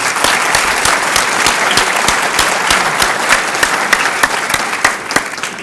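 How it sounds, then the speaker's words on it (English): Loud, sustained clapping from an audience at an Iowa Eastern Star reception, a dense wash of hands with a few sharper individual claps standing out near the end. "I think they deserve special applause too"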